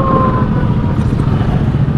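A fire truck siren wails at the scene of a house fire, loud and close, its tone sliding down over a heavy roar of engines and crowd noise.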